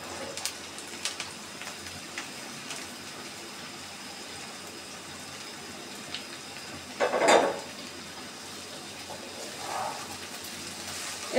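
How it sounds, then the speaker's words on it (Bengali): Half a kilo of okra added to frying onions in a pan for Bengali dherosh bhaji, giving a soft continuous sizzle with one louder burst of crackle and clatter midway, a smaller one later, and occasional utensil clinks. "এখন আমি ঢেঁড়সগুলো দিয়ে দিব পেঁয়াজের মধ্যে"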